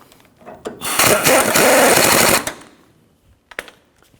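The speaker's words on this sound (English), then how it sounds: "You can get this started with an impact gun." An impact gun rattles in one sustained burst of about a second and a half while tightening a sway bar link nut on a 2011-15 Kia Sorento, loud and close, with a few faint clicks afterward.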